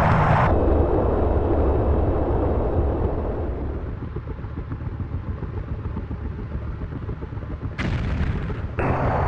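An AH-64D helicopter fires a missile in the Jane's Fighters Anthology flight game, making a loud, heavy roaring rumble that slowly fades. A sharper burst of noise comes near the end, with no voices.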